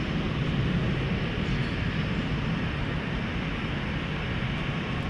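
A UPS Boeing 767 at DFW Airport at night gives off a constant low, broad engine rumble and hiss, steady and moderately distant for the whole stretch, with no voices.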